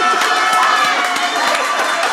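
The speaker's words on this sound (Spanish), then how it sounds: "¡Aplauso!" Audience applause at a comedy show, dense close clapping and crowd noise that runs steadily throughout.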